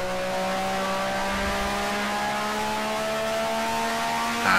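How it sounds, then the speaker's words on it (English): A 1965 Grand Prix race car in the Grand Prix Legends racing game accelerates out of a corner at the 1965 Syracuse Grand Prix, its engine note rising steadily under a harsh, droning tone. "Get on the gas early."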